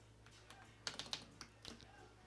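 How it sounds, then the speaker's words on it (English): Slow, irregular keystrokes on a computer keyboard come in a few quick clusters of clicks, close and quiet, with faint background hum. "See what a slow typer I am."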